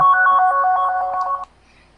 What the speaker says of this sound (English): I'm getting a phone call right now.